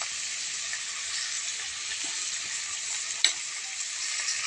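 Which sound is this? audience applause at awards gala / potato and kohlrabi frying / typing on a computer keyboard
potato and kohlrabi frying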